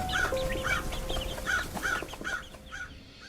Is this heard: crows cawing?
yes